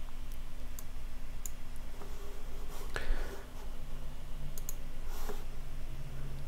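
Computer mouse clicks while working in Microsoft Visio, a few sparse, faint, sharp clicks spaced apart over a quiet room background.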